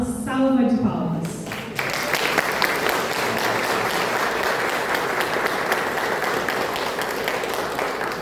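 A seated lecture audience breaks into sustained, dense applause that starts abruptly and continues steadily at full volume, after a brief spoken introduction at the start.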